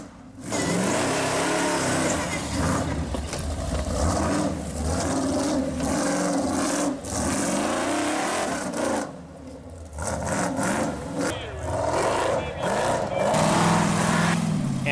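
Mud racing truck run by Richie Tremblay and Pork Chop at a mud bog event, engine held at full throttle with a loud, continuous roar that surges and dips over the whole stretch, close and dominant.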